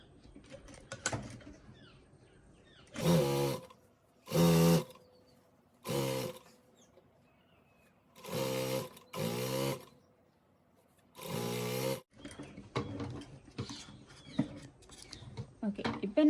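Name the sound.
sewing machine stitching a folded hem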